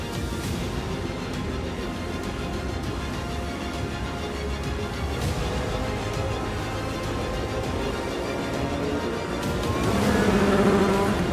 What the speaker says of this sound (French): We have started the formation lap for the 24 Hours of Le Mans.